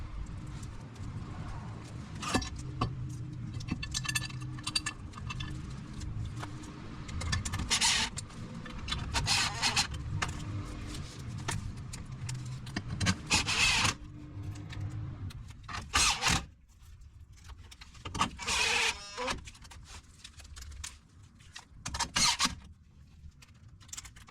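Bolts being installed on an aFe Power differential cover of a 2015+ Chevy Colorado or GMC Canyon, with continuous rattling, scraping metal and tool noise and occasional sharper clanks, fairly close and steady throughout.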